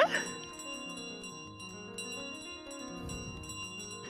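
A bell in the video game Untitled Goose Game rings out with a bright struck onset, then sustains a shimmering metallic tone for several seconds under soft background game music.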